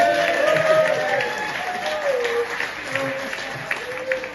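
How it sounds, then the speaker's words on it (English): Audience applause for a band member named Carol at a live music performance, a sustained spread of clapping under voices, with a tonal line weaving through, steady and moderately loud. "Give Carol a round of applause."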